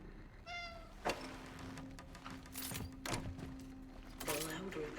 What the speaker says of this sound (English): The louder the meow, the more urgency you're trying to communicate.